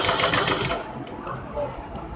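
Sewing machine joining blouse sleeves at the shoulder, a brief whirring stitch run that quickly fades into softer handling sounds.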